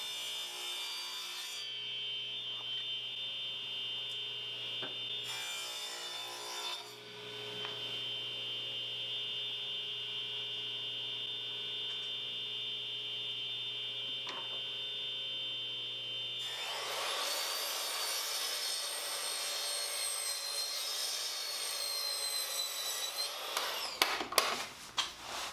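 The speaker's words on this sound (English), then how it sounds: "I'm going to cut a rabbet in this right here." A saw cuts a rabbet into a wooden board on a workbench, a steady grinding, rasping whir that runs continuously for most of the stretch over a constant mains hum, then grows harsher and louder before stopping abruptly near the end.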